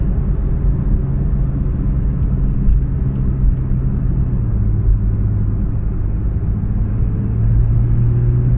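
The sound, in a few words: Porsche 911 GT3 RS engine at 3,000 RPM in 4th gear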